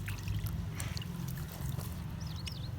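Spring water trickles quietly and steadily at a mountain fair spot, faint and unbroken, with birds chirping in the background.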